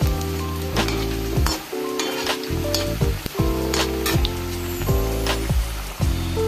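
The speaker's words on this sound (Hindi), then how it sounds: "हमने पकौड़ियाँ डाली है, धीरे धीरे कलछे की सहायता से हम इन्हें पलट लेंगे, जिससे कि यह दोनों साइड से अच्छे से सीख जाए" Potato pakoras frying in hot oil and being turned with a ladle give a steady sizzle with a few scraping touches. Loud melodic music plays throughout and partly masks the frying.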